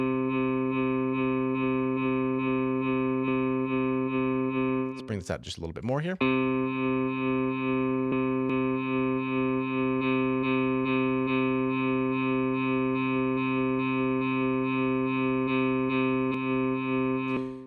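Sustained synth multisample notes from Synthmaster 3 using a linear loop crossfade, holding a steady rich tone with a brief swept glitch near the middle, while someone speaks over it.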